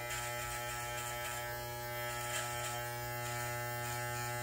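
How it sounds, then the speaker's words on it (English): Hair clippers with no guard and the lever open, shaving the sides of a head: a steady, close electric buzz that holds at an even level throughout, with no speech. "Then I'm gonna go in with my wall clippers with no guard on, but the lever open."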